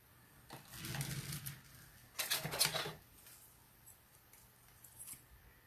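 Scissors snip through pieces of paper card at close range, with two quiet bursts of crisp cutting and rustling, the second sharper, then a faint handling sound near the end.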